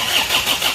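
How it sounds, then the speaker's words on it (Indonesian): A machine engine with a broken crankshaft cranks on its starter and catches, a brief, loud, close burst of mechanical turning that settles toward a rough running note. "Coba lagi yuk, starter yuk."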